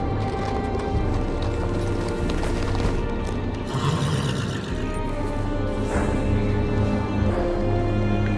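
Horse hooves arriving in a Game of Thrones video game, with steady clip-clop steps on hard ground, a whinny and some clattering over a constant low ambient rumble, fairly close and loud.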